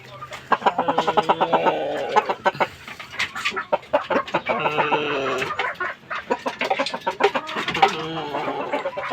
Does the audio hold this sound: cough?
no